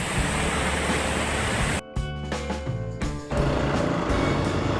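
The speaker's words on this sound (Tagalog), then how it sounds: "Ganyan kalakas yung current ngayon." The Abacan River, flooded after a typhoon, rushes by in a strong current with a loud continuous roar of water. Midway the roar briefly dips under a lower, uneven rumble, then returns at full strength.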